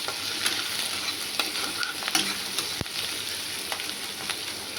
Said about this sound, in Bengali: পেঁয়াজটা দিয়ে দিয়েছি, পেঁয়াজটা দিয়ে নাড়ছি এবারে।